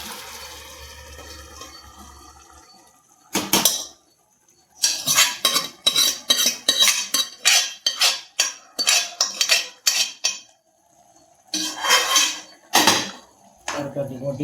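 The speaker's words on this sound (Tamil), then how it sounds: "இப்போ குக்கரையும் ஆஃப் பண்ணிவிட்டு பருப்பை கொட்டிடலாம்" Cooked Bengal gram dal is tipped from a pressure cooker into a pan for ridge gourd kootu, giving a run of close, loud metallic clanks and scraping knocks in quick bursts after a short quiet stretch.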